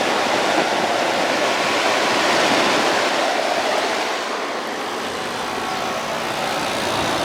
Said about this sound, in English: you could probably even hear wind noise on the camera now because so much air is moving over this